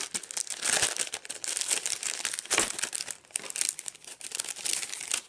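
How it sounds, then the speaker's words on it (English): Plastic packaging of a Dungeon Drop card game mini expansion crinkles close up in repeated bursts of crackling and rustling as it is handled and opened, with no talking. "Apologize for all the crinkling."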